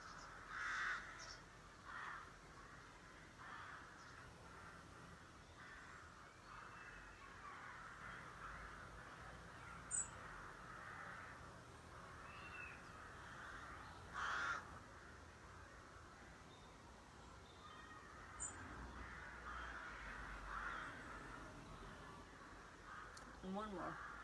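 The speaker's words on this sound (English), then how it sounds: "Loads of birds around today." Crows cawing outdoors, a few short caws spaced several seconds apart at moderate distance over faint ambient background, with a person talking at times.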